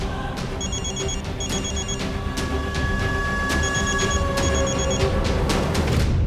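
A phone rings steadily in repeated double-trill bursts over background clatter and faint room noise, continuing for several seconds without any voices.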